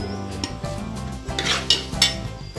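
Chopped onions go into a pan for chicken biryani, with metal spoon clinks and scraping against the cookware over a low bed of background sound, several sharp taps standing out.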